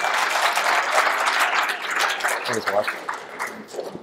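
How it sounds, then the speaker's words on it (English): A crowd at an activism summit applauds, a dense, continuous wash of clapping that thins slightly toward the end, with voices and cheering mixed in. "So give me a clap."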